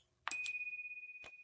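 A small bright bell, like a sleigh bell, rings once sharply, then sounds again softly and leaves a long pure ringing tone that slowly fades in silence.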